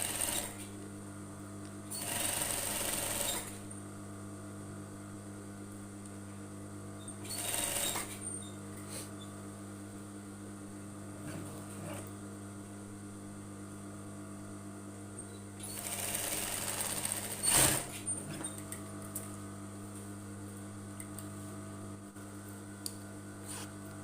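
A sewing machine stitching a half-circle skirt seam runs in three short bursts of rapid whirring and clatter, with quiet pauses and a low steady hum between them.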